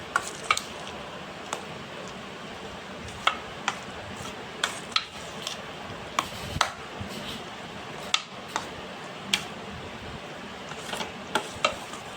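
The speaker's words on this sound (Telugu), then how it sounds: "ఈ చింతపండు టమాటో మిశ్రమంలో వేసి బాగా కలిపేయాలి ఫ్రెండ్స్." Powdered salt being stirred into a tamarind and tomato mixture for bitter gourd pickle: irregular sharp spoon taps and scrapes against the pan, close and alone.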